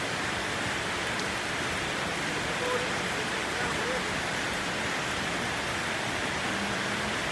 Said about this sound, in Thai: ฝนตกนะคะ ชุ่มฉ่ำเย็นสบายมากเลย บ่มีลมจ้ะฝนตกงามงาม